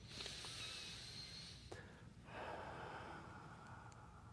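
A slow, deep inhalation during a guided spiritual meditation, one soft drawn-in breath rising over a quiet room hiss with a brief pause in the middle.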